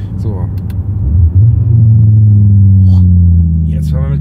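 An Audi RS 3 Sportback, bagged and tuned, drives with its exhaust valve flap closed: a deep, steady engine rumble that swells and holds, close up, with a voice talking over it.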